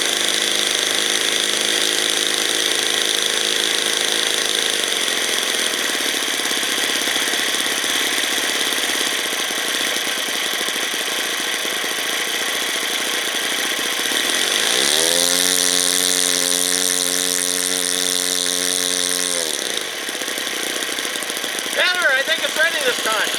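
A small glow-fuel engine on a 50-year-old Falcon 56 three-channel RC airplane runs at a steady, loud, buzzing idle throughout, with a brief rise and fall in pitch partway through.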